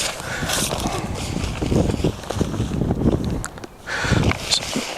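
Gusty wind buffets the microphone outdoors during an agriculture class in the field, a steady rushing roar with louder surges, briefly dropping before rising again, with people talking nearby.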